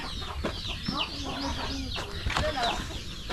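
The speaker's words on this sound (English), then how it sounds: "Got some chickens." Chickens clucking and chattering close by in a rural Philippine province, with scattered calls over a busy outdoor background and some voices mixed in.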